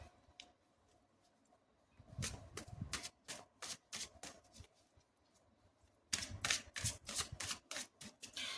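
Tarot cards are shuffled in quick riffled bursts, a crisp flurry of rapid snapping strokes, pausing briefly mid-way before a denser second round, close and fairly quiet.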